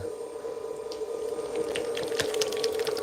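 Wet clay squelches on a spinning pottery wheel with too much water, soft squishes and splashy ticks over a steady motor hum.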